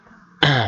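A single short, harsh cough or throat clearing bursts out after a faint murmur, close and loud.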